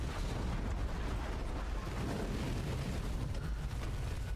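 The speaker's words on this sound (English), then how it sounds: "Every time she shows up, there seems to be too many explosions." An explosion in the Resident Evil 2 Remake video game produces a dense, loud, sustained rumbling roar with crackling debris that fills the whole stretch without pause.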